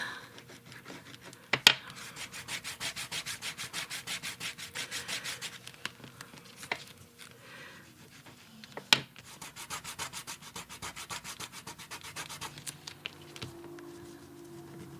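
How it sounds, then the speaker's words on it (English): Paint being rubbed and buffed with a napkin over a mixed-media watercolor piece, with red copper and black tones worked along the edges and corners: repeated close, scratchy rubbing strokes in two long bursts, separated by a few sharp taps. "And rub this out, this corner here."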